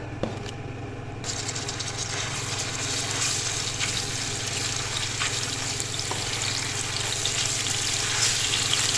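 Ginger-garlic paste frying in hot ghee for an egg gravy, a steady dense sizzle that runs continuously and close up, with no talk.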